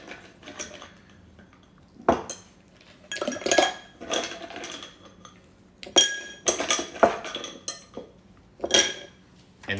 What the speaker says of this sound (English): So I'm going to add ice to my mixing glass.